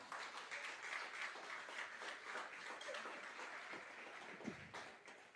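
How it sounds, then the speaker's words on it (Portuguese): Church congregation applauding during a Nazarene sermon, a steady wash of many hands clapping at moderate, fairly distant level, holding evenly for several seconds with no talk over it. "Você pode aplaudir o Senhor?"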